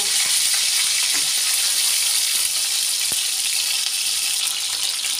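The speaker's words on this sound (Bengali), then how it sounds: "মাছগুলো একটু লালচে ভেজে নেব" Fish fry in hot oil with a steady, loud sizzle filling the clip, with an occasional faint clink.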